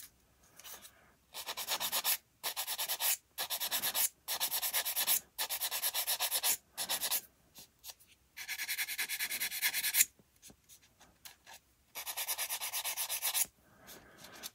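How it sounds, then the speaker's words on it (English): Medium-grit sander working over the small wing-attachment parts of a 1/48 B-25J plastic model kit, heard as close, loud bursts of gritty rubbing, about ten strokes in a row separated by brief pauses. "I'm using a medium grit sander."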